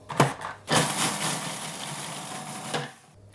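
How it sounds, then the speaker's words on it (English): Blender blitzing tablespoons of coriander and cumin seeds for a Thai green curry: a loud continuous whirring grind after a brief first pulse, running steadily for about two seconds before cutting off. "we're going to blitz the spices first"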